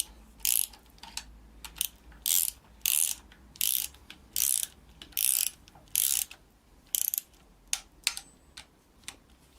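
A ratchet tightening nuts during a BMW double-VANOS timing setup on an M52TU/M54/M56 engine, heard as a regular series of close, loud bursts of rapid metallic clicking with short pauses between strokes and no talk.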